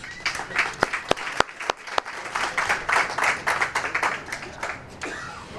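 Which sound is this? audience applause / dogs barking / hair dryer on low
audience applause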